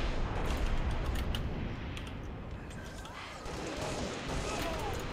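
Gunfire from a Halo Double Team match crackles in dense bursts through a noisy game mix, with low rumble and talk layered over it.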